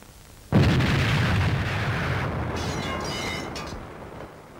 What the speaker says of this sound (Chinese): 原来啊，他偷去的是一个土化学雷，它能够延期爆炸。